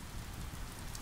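Steady rain falls at night on a shelter, a dense, even hiss with soft low patter, continuous and fairly quiet, with no voices.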